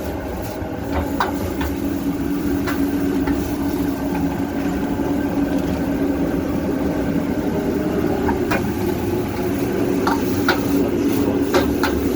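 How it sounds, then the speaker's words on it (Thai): Pad see ew noodles stir-fried in a wok at a Lao food truck in Lakewood, Washington: a steady sizzle with occasional metallic clinks of the utensil, continuous and close, with no talking. "กำลังคลุกผัดซีอิ๊ว"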